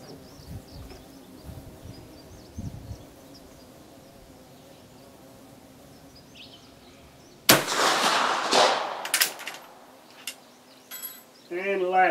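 An 11mm Gras rifle fires a CBE cast bullet at an outdoor range: one loud, sharp blast with a lingering echo after a stretch of quiet talk and ambient noise.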